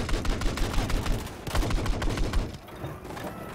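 Rapid, loud 30mm cannon fire hammers in a dense, steady burst at a boat in a video game match, the rounds blurring into a continuous roar before easing off near the end.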